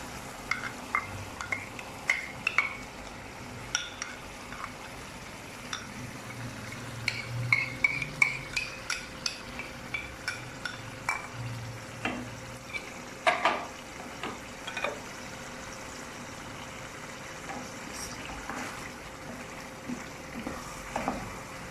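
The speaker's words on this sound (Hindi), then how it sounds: "अभी मैं इसे जो मैंने मसाला बना के रखा हुआ वो मैं डालने लगी हूँ।" Mutton liver fries in ghee in a pan as masala is tipped in and stirred, a steady soft sizzle broken by repeated spoon scrapes and light clinks against the metal, fairly close and without talk.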